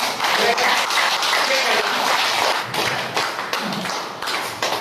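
An audience at the Patna center claps, a loud, dense rattle of many hands with occasional thumps that thins slightly near the end, with voices faintly present.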